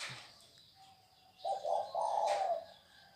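A spotted dove gives a soft, mellow series of coos, a few rounded notes in a row, fairly close in a quiet setting.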